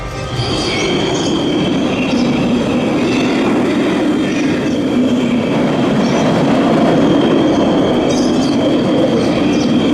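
An empty Nemesis Inferno roller coaster train at Thorpe Park runs with a loud, steady roar and rumble, faint wheel squeal on top, sustained and close throughout with no talking.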